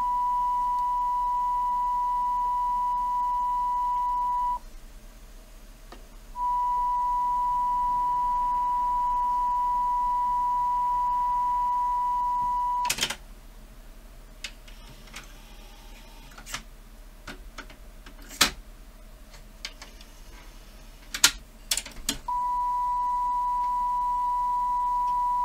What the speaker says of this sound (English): That's 1 kHz test tone.